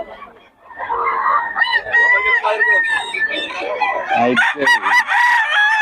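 Roosters (stags) crowing repeatedly at a cockfighting-bird market in Bocaue, several long, loud calls overlapping one another alongside clucking and the steady chatter of people talking nearby.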